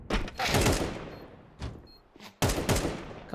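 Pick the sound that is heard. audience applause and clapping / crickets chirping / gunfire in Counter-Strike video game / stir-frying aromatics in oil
gunfire in Counter-Strike video game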